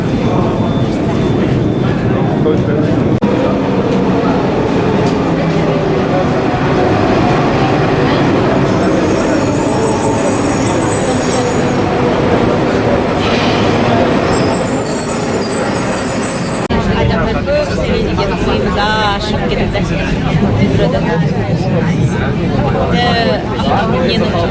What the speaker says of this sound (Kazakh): Қазір енді метрода тұрмыз